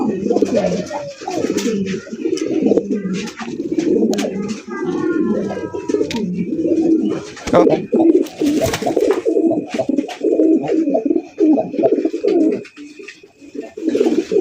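Pigeons coo steadily in low, throaty, overlapping calls, with a few higher chirps and occasional knocks mixed in.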